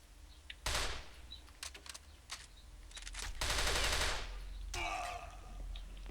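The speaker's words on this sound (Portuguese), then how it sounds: "Essa arma dele também é boa" Bursts of automatic gunfire in the shooter game CrossFire, loud rapid volleys separated by short gaps, with no talk over them.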